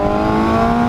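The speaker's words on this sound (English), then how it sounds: "It's just this exhaust is so goddamn loud." The exhaust of a Jaguar F-Type revs loudly with a steady, droning engine note, up close and unbroken for a brief moment.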